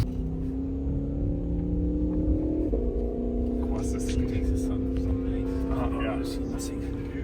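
A Ford F-150 Raptor runs on a driving track, its engine giving a steady loud drone with a slight rise in pitch partway through, while people talk over it.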